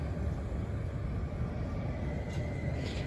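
An electric Flirt multiple unit passing on a Polish line, a steady broadband rumble and rail hiss holding evenly throughout at moderate distance, with no pauses or distinct clatter.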